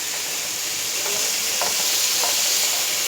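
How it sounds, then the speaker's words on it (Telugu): Ginger garlic paste frying in a pan for fish biryani gives a steady, bright sizzle with a few soft stirring clicks, heard close and without any talk. "అల్లం వెల్లుల్లి పేస్ట్ 1 స్పూన్ వేస్తున్నాను"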